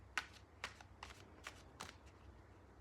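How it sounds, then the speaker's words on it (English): Tarot cards are shuffled by hand in a series of quiet, crisp riffles and flicks, about six short bursts spaced evenly, close and alone in a still room. "I think I'm going to have to shuffle these cards again."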